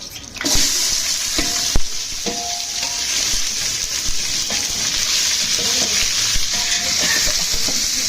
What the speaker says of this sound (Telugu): నెయ్యి కాగాక మసాలా దినుసులన్నీ వేయాలి.